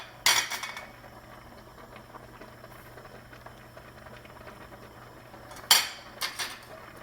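A utensil stirs a cheese mixture for cacio e pepe in a bowl, giving two short bursts of scraping clinks, one at the start and one near the end, with near-quiet room tone between.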